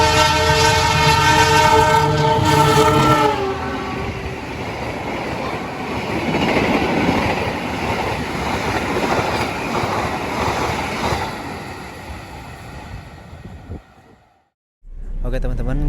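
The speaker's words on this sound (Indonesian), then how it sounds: "kereta api Bima akan segera melintas di jalur 3" A train horn blares, then the Bima passenger train rushes past on track 3 with loud rumbling and rhythmic clatter of wheels before fading into near silence.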